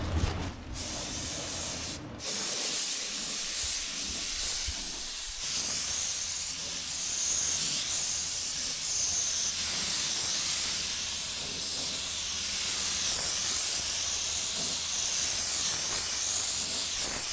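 A spray gun hisses steadily as primer goes onto small dings in a Toyota truck body during restoration, a loud, continuous spray with brief pauses near the start.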